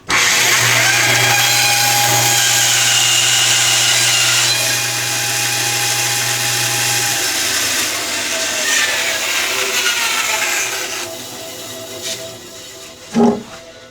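A router cutting an inlay patch in wood with a guide bushing or inlay kit, giving a loud, continuous, high whine up close that holds steady, then spins down near the end with a brief knock.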